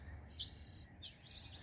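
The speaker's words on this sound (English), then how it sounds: "Move your energy towards the birds, towards the sound of the singing." Faint birds chirp in an outdoor natural setting where herons and pelicans are around, with a few thin high tweets at scattered moments over a steady low rumble of background noise.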